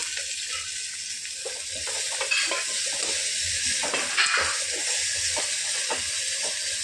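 Spices fry in a pan with curry leaves and chili powder, a steady close sizzling hiss broken by stirring scrapes.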